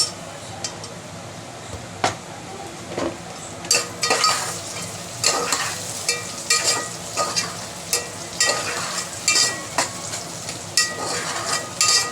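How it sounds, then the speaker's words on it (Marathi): Tomatoes sautéed with already-fried onion in a pan for white pea misal, under a steady sizzle, with rhythmic spatula scrapes and clinks against the pan repeating about every second. "याच्यामध्ये आपण आता टोमॅटो परतून घेऊया"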